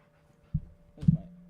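A happy puppy gives a couple of short, close breathy bursts, a small puff and then a louder panting huff with a faint whimpering edge, over a quiet room hum.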